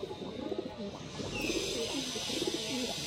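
Andhra pigeons coo repeatedly at close range in rhythmic, throaty bursts, with a faint hiss in the background.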